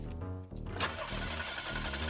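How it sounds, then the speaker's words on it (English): A car engine cranks over and over in a rapid, labored rhythm without catching, loud and close, with a brief gap partway through before the straining resumes; the ignition cable is missing. "the car is not starting"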